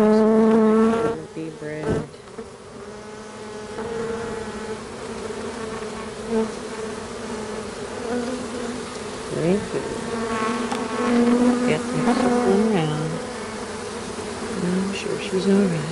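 Honey bees drone and buzz continuously around an opened hive, with individual bees rising and falling in pitch as they pass close by, and a beekeeper talks briefly over the swarm.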